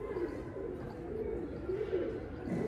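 A show pigeon cooing softly and steadily close by, with a low continuous murmur and no talking.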